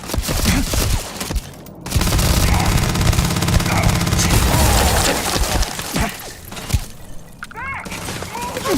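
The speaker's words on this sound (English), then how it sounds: "I'm under heavy fire!" Heavy gunfire in the space game Starfield, with loud sustained bursts of shots and crashing impacts that continue almost without a break, along with voices and game sounds mixed in.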